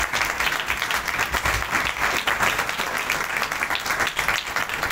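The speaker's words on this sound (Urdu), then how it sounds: "آئیے خداوند کے لیے زوردار تالیاں بجائیں۔" A church congregation claps loudly and continuously in praise, producing a dense, even roar of applause throughout with no talking.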